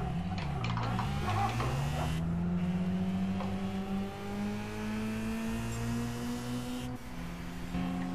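A car engine in the Gran Turismo 5 racing game revs through rising and falling gears from an in-car view, whining steadily with several pitch sweeps as it accelerates through a drift race.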